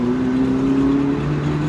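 A Honda Jazz fitted with a Lamborghini exhaust revs steadily, a loud droning engine tone that holds, then drops slightly in pitch partway through. The sound is heard from up close and continuously, with no talking.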